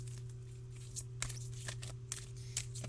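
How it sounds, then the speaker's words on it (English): A transparent tarot card deck being cut shuffled lengthwise by hand, giving a run of soft, close riffling card slaps and flicks over a steady low hum, with no talking. "Finding it easier to cut shuffle long ways like this than the other way"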